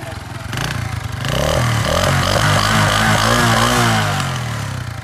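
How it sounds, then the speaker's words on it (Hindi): A motorcycle engine runs close by, revving up and holding a throaty exhaust note before easing off, with voices in the background. "पीछे से सिलेंसर का साउंड चेक करवा"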